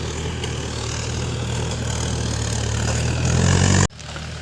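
A tractor plowing a field nearby makes a steady engine drone, growing slightly louder before cutting off abruptly near the end.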